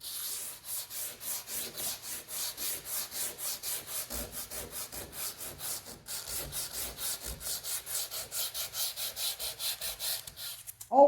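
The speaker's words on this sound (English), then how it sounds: "I think that's enough sanding of the body filler" Body filler on the drip rail of a Chevy Viking 60 truck is hand-sanded with a soft sanding pad, giving close, steady, rhythmic back-and-forth scraping strokes with no talking.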